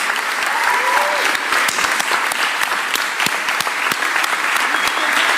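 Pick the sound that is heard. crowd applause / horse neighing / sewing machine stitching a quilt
crowd applause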